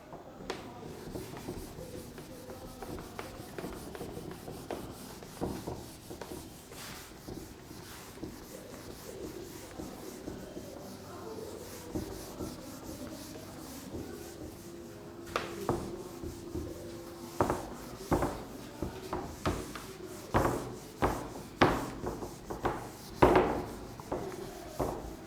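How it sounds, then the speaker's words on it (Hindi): Repeated rubbing and scraping strokes on a surface, soft and steady at first, then turning into sharper, louder scratchy strokes toward the end, with no voices. "चलिए, ओके, कंप्लीट, ओके, रब करते हैं।"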